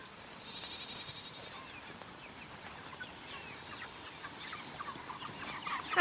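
Chickens cluck faintly among a farm's goats and sheep on a rainy chore day, a soft steady murmur of fowl and light bleats under a constant background wash, with no talking.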